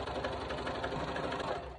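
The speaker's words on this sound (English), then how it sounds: "I'm gonna sew my other little side spot closed for that guy." A sewing machine runs steadily, stitching a side seam closed on a face mask made from an old T-shirt, a close, continuous rapid chatter of the needle with no pauses.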